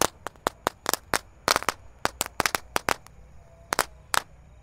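A small "telur dino" firecracker crackles off in a rapid, irregular string of sharp bangs, about twenty in under five seconds, loud and close, at night after a spinner firecracker failed to light.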